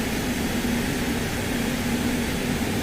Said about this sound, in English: That is a fast aeroplane.